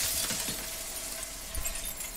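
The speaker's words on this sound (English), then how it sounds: "The mirror shatters." Mirror glass shattering in Slay the Princess, a bright crashing spray of breaking glass at the start that thins into faint tinkling, alone without speech.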